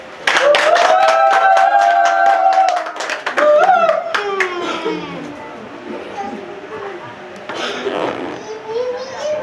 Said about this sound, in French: Vous applaudissez, non?